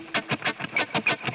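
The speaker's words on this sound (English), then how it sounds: "And I have a little delay on there now." An instrument played through a patch with delay and a little reverb, short rhythmic notes pulsing about every fifth of a second, each echoing and trailing into the next.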